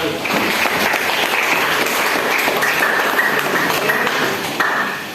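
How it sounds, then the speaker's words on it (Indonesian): Classroom applause at a vocational school lesson, a steady wash of many hands clapping for about five seconds with faint tones and scattered taps mixed in, no speech over it. "Tepuk tangan untuk saudara"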